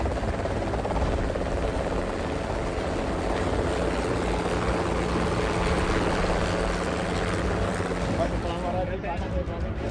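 A helicopter lifts off after a political rally in Uttar Pradesh, its rotor and engine roar holding steady and loud for the whole stretch, close by and dense, with no clear voices breaking through.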